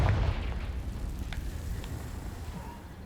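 A Confringo blasting spell explodes in Hogwarts Legacy with a loud, rumbling boom at the start that tails off into a low, lingering game ambience.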